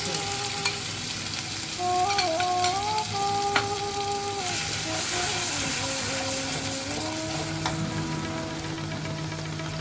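Chili paste fries in a pan for Bengali prawn malai curry, giving a continuous loud sizzle with stirring scrapes and steady bubbling close by.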